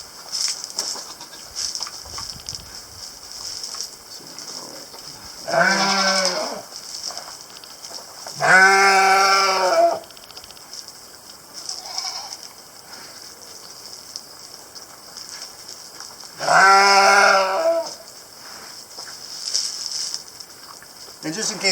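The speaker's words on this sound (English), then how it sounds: "my sheep is not dying. That's what he sounds like all the time." A sheep bleats loudly three times with long pauses between, each call a drawn-out wavering cry, close by over a quiet background.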